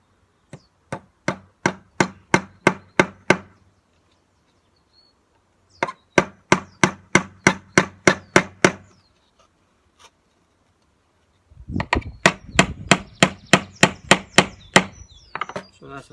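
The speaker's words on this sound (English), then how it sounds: "just hammer that into that." Sharp hammer blows drive nails into wood while building a bird box, in three quick bursts of steady, evenly spaced knocks separated by short pauses; the last burst rings denser and louder.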